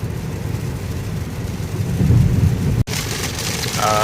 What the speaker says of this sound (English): Pretty heavy rain right now